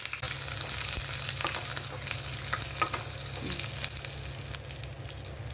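Steady, dense sizzling and crackling of tempering spices frying in hot oil for bottle gourd chutney, continuous throughout with occasional sharper pops and light stirring, no voices.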